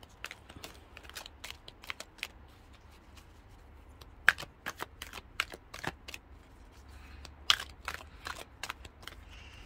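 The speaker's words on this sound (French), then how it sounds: "Donc je vais enlever ces cartes-ci et puis justement on va tirer une carte" Oracle cards being shuffled and drawn from a deck, giving a run of soft, quiet flicks and riffles with sharper snaps near the middle and later on, heard on their own without any voices.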